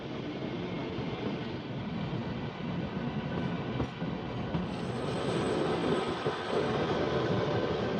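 Kalka–Shimla narrow-gauge toy train rolling through winter hills in Himachal toward Dharampur, a steady close rumble of wheels and carriages with faint rhythmic clatter and a thin high squeal rising near the end, with no voices.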